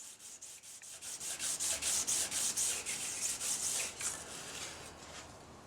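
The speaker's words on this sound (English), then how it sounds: "using the 400 grit side of the honing stick, hone either side of the card scraper until the hone reaches all the way out to the edge" A card scraper is honed on the 400 grit side of a honing stick, giving a quick, even run of abrasive rubbing strokes, close and fairly soft, with no talking.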